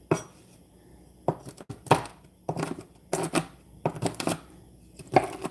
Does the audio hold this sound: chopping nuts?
yes